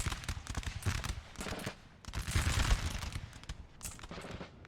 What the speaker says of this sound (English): we do have the grenadiers shooting at infantry that are advancing on this house